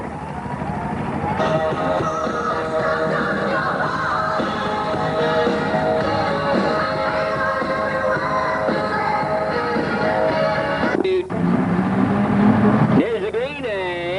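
A hot rod race car rumbles continuously around the track on its lap of honour, engine loud and steady throughout, with a shifting note near the end.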